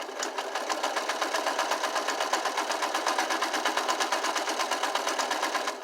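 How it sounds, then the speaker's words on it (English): Sewing machine stitching a curtain hem, a fast even mechanical chatter running steadily without pause, close and moderately quiet. "You want to let the machine pull it through as you sew"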